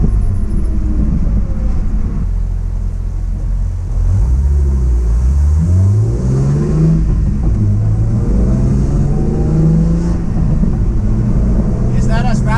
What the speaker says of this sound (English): It's not as raspy as my 3-inch single exhaust.